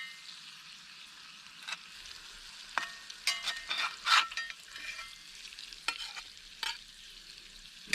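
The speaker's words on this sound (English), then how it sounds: "Let's throw in a little spinach." Spinach stirs and fries in a pan over a campfire supper at an SUV campsite, a soft steady sizzle broken by occasional scraping stir strokes, close and fairly quiet.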